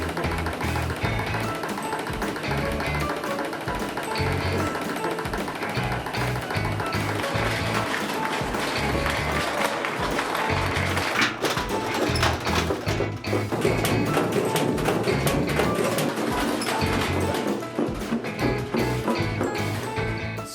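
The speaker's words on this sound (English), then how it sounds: "if you hear your washer thumping around violently, be quick to stop it and reload it more evenly" A washing machine loaded with a bowling ball runs with a severe imbalance, giving a loud, continuous churning roar with steady rhythmic heavy thumps throughout.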